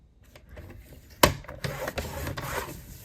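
Photo album pages, from a Dollar Tree album being turned into a journal, are scored and folded by hand: close, dry rubbing and scraping strokes with one sharp crease snap, soft and uneven, without speech.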